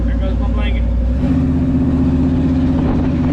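A Squarebody C10 pickup truck engine runs loudly and steadily, shifting into a deeper, stronger rumble as it pulls away; close and continuous.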